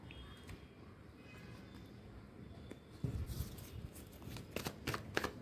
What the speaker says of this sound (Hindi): यहाँ से हम 4 कार्ड्स निकालेंगे।